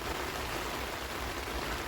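Steady rain falls on a UK garden allotment, an even, continuous hiss of drops with no break and no voices.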